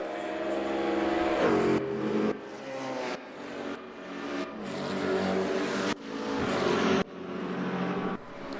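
A Corvette race car engine in a racing video game screams through repeated rising revs, each climb cut off abruptly at a gear change, loud and close throughout with no voices.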